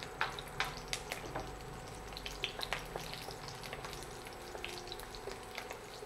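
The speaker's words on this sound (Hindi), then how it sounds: "अपना घी गर्म हो गया है। सब पहले इनमें आप लहसुन डाल देना।" Steady, gentle sizzling and crackling of garlic frying in hot ghee, with scattered small pops and occasional light stirring.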